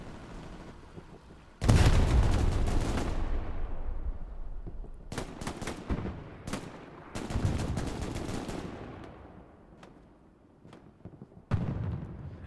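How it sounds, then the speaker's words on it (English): Artillery shells explode in the WWII shooter Hell Let Loose in a string of four or five heavy blasts, close and loud. Each sharp crack rolls into a long rumbling decay, with quieter gaps between them. "I think those are artillery shell, actually."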